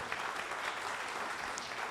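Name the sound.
audience applause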